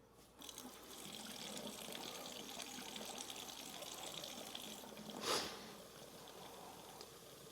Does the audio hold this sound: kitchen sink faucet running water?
yes